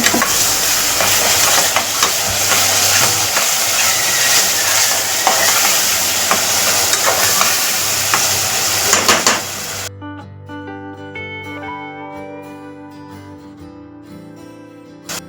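Ground ginger, garlic, green chili and coriander paste fries in a hot pan for suran bhaji: a loud, steady hiss and sizzle with stirring scrapes for about ten seconds, then the sizzle stops and background music carries on.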